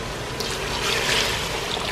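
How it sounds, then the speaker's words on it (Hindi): Water gushes steadily into a cooking pot of cooked meat for haleem, a continuous splashing pour that fills the whole moment, close and fairly loud. "अब इसमें पानी डाल देंगे।"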